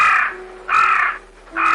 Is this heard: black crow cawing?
yes